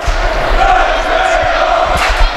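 A home crowd at a girls' varsity basketball homecoming game cheers and roars steadily in a gym, loud and sustained, with a commentator's voice over the noise.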